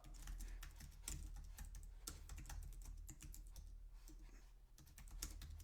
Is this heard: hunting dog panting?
no